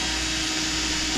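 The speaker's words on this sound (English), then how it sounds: "so we're gonna drill another one right next to it" A drill boring a bolt hole into a subwoofer box enclosure, a steady unbroken whirring hum heard up close for a short moment.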